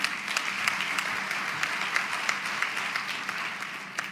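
Audience applause fills a large conference hall at a building technology summit in South Africa, a steady wash of many hands clapping at moderate distance with no talk over it.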